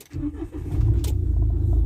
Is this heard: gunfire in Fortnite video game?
no